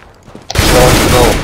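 A flashbang grenade in Counter-Strike: Global Offensive goes off loudly after a brief quiet lead-in, its burst turning into a sustained, dense roar that fills the rest of the moment.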